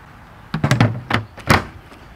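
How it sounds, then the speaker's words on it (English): Plastic lid doors on an ICECO VL75ProD 12V fridge being opened and lifted off, giving a few close, hollow thunks and clacks in quick succession over about a second. "you have these doors that open like this, but they also open like this"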